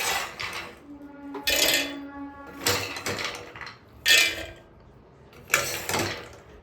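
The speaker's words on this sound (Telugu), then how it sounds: "ఇప్పుడు దీంట్లోకి ఈ బాదం అన్నీ వేసుకుందాం." Several separate bursts of almonds rattle and clatter into a mixer jar, each pour lasting about a second, with quiet pauses between.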